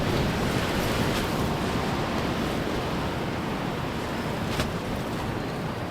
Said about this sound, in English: it's been terrible weather, really windy, really blowy, really rainy